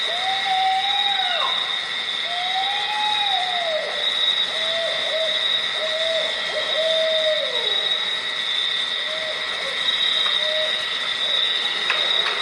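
An imitation owl gives repeated hooting calls, a string of rising and falling hoots at a steady pace, moderately near over a constant high-pitched background hiss and whistle.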